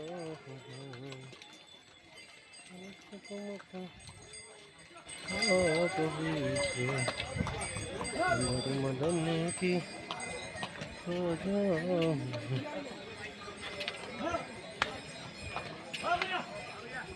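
Horses and mules walking along the Kedarnath mountain pilgrimage trail, with hoof clops and clinking bells beneath nearby people talking and calling out.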